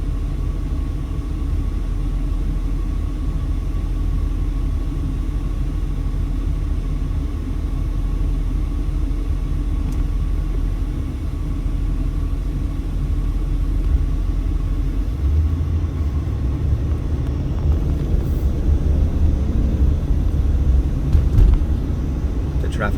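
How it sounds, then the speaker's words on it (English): Steady traffic on Sahara Avenue in Las Vegas, a busy east-west artery with cars backed up westbound, heard as a continuous low rumble of idling and slowly moving engines throughout, with some louder passing vehicle noise near the end. "traffic backed up going westbound on Sahara there"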